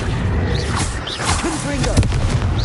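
Spell blasts from the Confringo fire spell in the Hogwarts video game, heavy booming thuds over dense game noise, with a few sharp impacts close together and a voice talking underneath.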